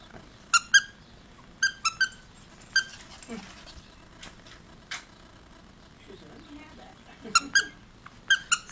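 A plush dog toy from a Bark Box is squeezed repeatedly, giving short, high, close squeaks in small clusters of two or three, separated by quieter gaps with faint handling sounds.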